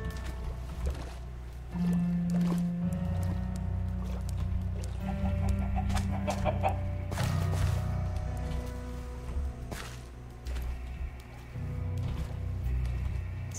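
Minecraft chickens in a nighttime jungle give repeated short clucks scattered through the stretch, moderately close, against low game ambience with almost no talk.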